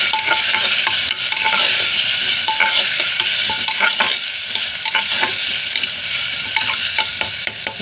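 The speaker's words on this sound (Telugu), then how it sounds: "బంగాళదుంపలు, ఉల్లిపాయలు, పచ్చిమిర్చి వేసుకొని కలుపుకోవాలి." A spoon stirs chopped potatoes, onions and green chilies frying in a pan for potato khichdi, a loud steady sizzle broken by repeated scraping strokes, no talk.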